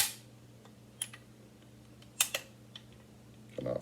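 Metal clicks from a Henry H001 lever action rifle during a function check: several sharp, separate clicks spaced irregularly over quiet background, close by, with a handling rustle at the end.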